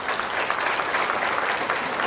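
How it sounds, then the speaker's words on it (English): Steady, dense applause from a banquet audience at a county conservation awards event, honoring award winners as they stand; continuous clapping throughout with no talk over it. "Let's give them a huge round of applause."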